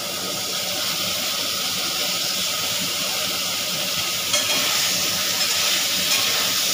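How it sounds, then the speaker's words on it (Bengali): Eggplant and potato pieces fry in a pan with a constant, fairly loud hissing sizzle that stays even throughout, with a small bump of noise midway. "বেগুন আর আলুটাকে ভালো করে ভেজে নিতে হবে।"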